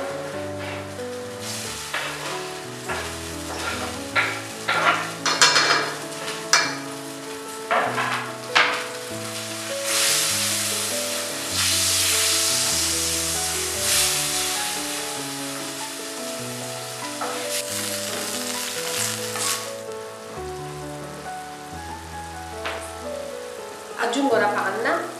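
Salmon with wine and salt sizzling hard in a pan, a loud continuous fry with crackles and spatters, along with scraping stirs and faint music in the background.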